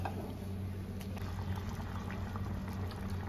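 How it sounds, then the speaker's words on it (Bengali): Red lentil dal boils steadily in a pot, giving a close, continuous bubbling and simmering texture throughout with no pauses or speech. "ডালটা আমার অনেকটাই সেদ্ধ হয়ে গেছে, আর 2 মিনিট সিদ্ধ করে নেব"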